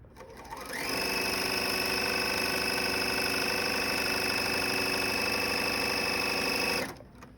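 A serger stitching a rolled hem over air with decorative threads runs at a fast, even, buzzing drone, starting up after a moment and stopping abruptly near the end, loud and close.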